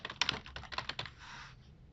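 Computer keyboard typing as a policy title is entered in a software upload wizard: a quick, close run of light clicking keystrokes, then a brief softer rustle, with no talking.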